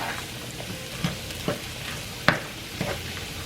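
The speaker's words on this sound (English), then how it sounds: "So now I'm going to mix it on up." Seasoned low carb pork belly is stirred in a hot pan, with a steady sizzle and frying hiss broken by a few soft scraping and tapping strokes, close and moderately quiet with no talk.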